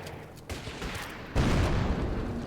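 Gunfire and artillery from a WW2 strategy game pound anti-tank gun positions, a dense rumbling barrage that swells into a louder burst of booming shots partway through.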